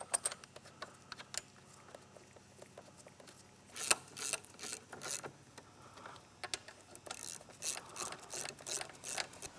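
On a Honda CBR 600 RR motorcycle, brake caliper bolts are hand-tightened, giving faint, scattered metallic clicks and small rattling taps close by in a quiet workshop.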